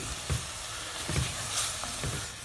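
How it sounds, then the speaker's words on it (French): Small whole octopuses sauté in a hot pan, giving off their water, with a continuous close sizzle broken by a few soft knocks of stirring. "je les fais bien revenir parce que je veux les faire suer un maximum pour pouvoir enlever toute cette eau"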